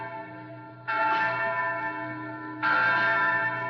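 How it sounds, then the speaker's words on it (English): A church bell rings in a Western radio drama setting, two loud, sustained strokes about two seconds apart, each swelling over a steady low hum with no talking. "ring the bell, Inez."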